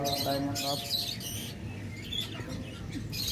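Lovebirds, cockatiels and budgerigars in a bird shop give bursts of bright chirps and squawks, close and overlapping, over a busy background murmur.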